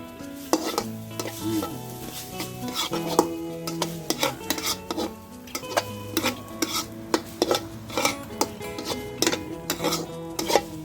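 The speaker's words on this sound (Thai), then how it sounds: "ก็ผัดไปเรื่อยๆครับแล้วก็ผัดไปเรื่อยๆเลย" Minced pork chilli paste stir-fried in a pan, a busy run of metal spatula clanks and scrapes over a continuous sizzle, close and rhythmic throughout.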